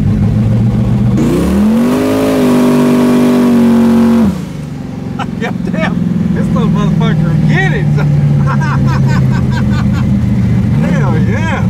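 Twin-turbo Chevy S10 truck engine revving hard, a rising droning roar that holds and then drops off, followed by a lower idle. Excited voices and shouting carry over the engine.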